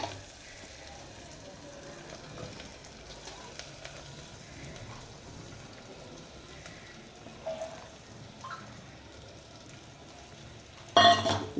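Lentils with ginger and garlic stirred while frying in a pan for spinach dal, a quiet steady sizzle with occasional scraping stirs and a louder burst of clatter near the end.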